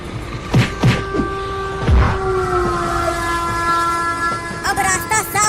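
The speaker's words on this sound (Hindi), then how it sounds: "तब तो इसे ट्रेन से उड़ाना ही होगा।" A train rolls past with a loud, sustained horn blast held over its rumble and rattling wheels, with short clanks at the start and a brief rise in noise near the end.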